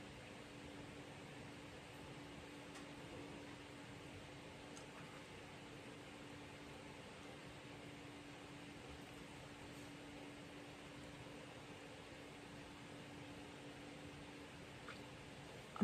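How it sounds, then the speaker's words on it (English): A household clothes dryer runs indoors as a steady, faint, even whir with a low hum, continuous and unchanging throughout, with no talk. "That's my dryer."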